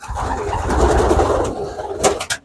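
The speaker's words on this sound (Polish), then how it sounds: "Gołębie, no idź sobie Mańka." Pigeons coo in a loft in a low, continuous, rolling murmur, fairly loud and close, with a few brief rustles and taps near the end.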